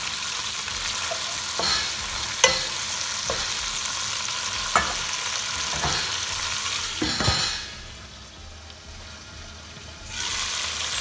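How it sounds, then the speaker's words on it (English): Vegetables for chicken jalfrezi sizzle and crackle steadily as they flash-fry in hot oil, with a few sharp clanks of stirring, then the sizzle briefly drops away before returning. "This is what we call flash frying."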